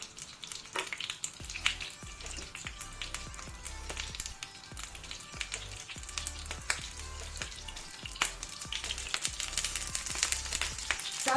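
Eggplants for karnıyarık fry in a lightly oiled pan, a steady close crackling sizzle with dense popping spatters throughout and no voices.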